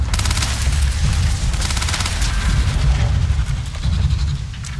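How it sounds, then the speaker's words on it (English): Sustained gunfire from Starfield, a dense rapid fusillade of shots with heavy low booms, loud and continuous throughout with no pauses. "Keep shooting, keep shooting."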